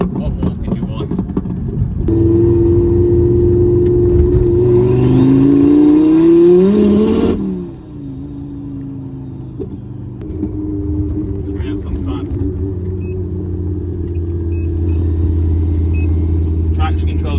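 A tuned 800 bhp Ford Focus ST, running on low boost, accelerates along back roads. Its engine note climbs steadily and loudly over several seconds, then cuts off sharply and settles back to a lower drone.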